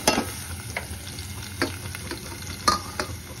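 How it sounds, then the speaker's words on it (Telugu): Onion pieces fry and get stirred in a tablespoon of oil with green chillies for a dry prawn curry, giving a steady close sizzle broken by a few sharp scraping stirs. "ఇప్పుడు ఉల్లిపాయ ముక్కలు వేసేసుకోవాలి."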